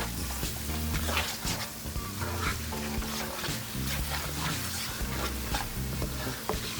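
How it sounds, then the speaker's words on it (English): A spoon stirs flour into onions in a cooking pan over a low flame for smothered chicken, a steady scraping and soft sizzle running continuously and close, with a low rhythmic hum of kitchen noise underneath. "then you just stir it and see how thick it is"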